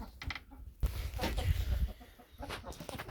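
Chickens cluck and squawk close by in short, uneven bursts, with a few louder agitated calls in the middle.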